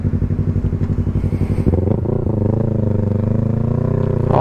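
A Yamaha MT-03 motorcycle accelerates on the road, its engine rising from a pulsing putter into a loud, steady revving roar with shifting pitch, heard up close from the rider's position.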